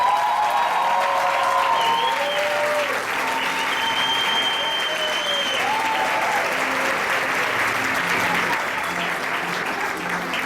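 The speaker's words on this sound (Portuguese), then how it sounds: "Você pode aplaudir o Senhor?" A church congregation applauds at length, a full, continuous roll of clapping with a few cheers and voices rising over it across the whole stretch.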